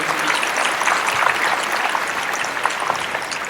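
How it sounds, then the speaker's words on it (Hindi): Dense, steady applause from an audience at a comedy show, a continuous wash of many hands clapping at moderate loudness with no talking over it. "एक बार जोरदार तालियां मैं चाहूँगा।"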